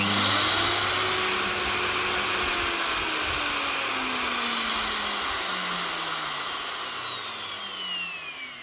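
Makita RP2303FC router running without its auto-stop brake, a loud whirring whine whose pitch slowly falls as the motor spins down, with no talking.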